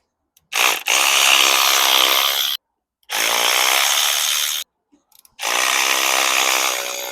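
A power tool with a T30 bit undoes the three timing chain tensioner bolts on a TFSI engine, giving three loud, close whirring bursts of about two seconds each, separated by short silences, with no talking.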